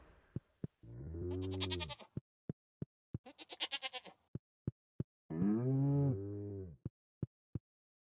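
Animated farm livestock in the video game Stardew Valley give long, drawn-out moos and bleats, interspersed with regular sharp clicking game sounds, with no talk over them.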